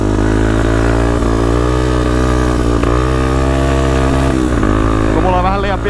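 A Mazza Comanche 300cc ATV with a manual clutch runs close by in a loud, steady engine drone, climbing into a quick rev near the end.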